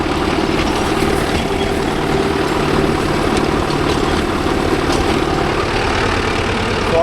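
A Mahindra Arjun Novo 605 DI tractor pulling a rotavator through a sorghum field in low third gear at about 1300 RPM gives a constant, loud, low diesel drone with a steady rumbling throb throughout.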